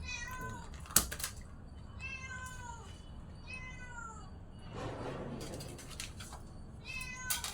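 A cat lying near a fish stall selling karimeen meows several times in clear, close, drawn-out cries with short pauses, plus a sharp click early on and low background rumble.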